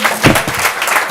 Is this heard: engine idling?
no